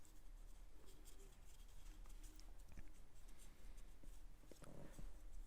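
Paper being folded by hand while making an origami cat, soft close rustling and crinkling with small creases and taps over a low steady background.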